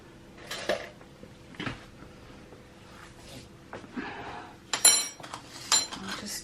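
A spoon scoops and scrapes bath bomb mixture in a bowl, with scattered light clinks and taps against hard surfaces, quiet and uneven, with no talking.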